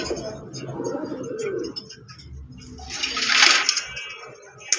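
Pigeons coo in low, soft murmurs amid rustling, followed by a burst of hissy, splashing noise partway through.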